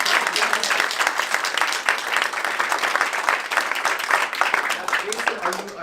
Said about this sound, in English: everyone will give you a big round of their applause